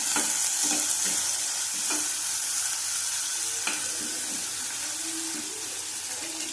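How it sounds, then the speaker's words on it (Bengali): Whole garam masala, dried chillies and onion frying in hot oil, a constant close sizzle with occasional scrapes and taps of a spoon stirring the pan. "ভালো করে ভেজে নেব।"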